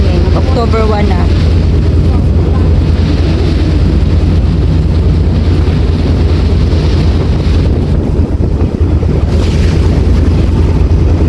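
A cool breeze blows across an open Hong Kong harbourfront on a holiday, with heavy wind rumble buffeting the microphone steadily throughout and faint background sounds beneath.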